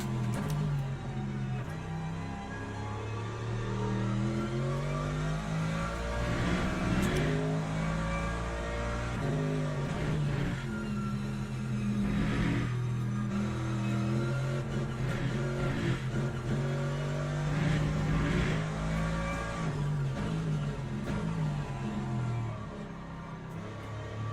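Race car engines in the Le Mans Ultimate racing game, hypercars among Porsches on a wet Bahrain circuit, roar and rev continuously, pitch rising and falling through gear changes and passing cars, loud and sustained throughout.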